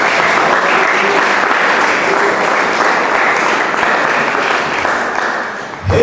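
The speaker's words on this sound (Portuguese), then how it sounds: "Você pode glorificar a Deus com suas palmas." A church congregation claps in sustained, dense applause that stays loud and even for several seconds before cutting off near the end.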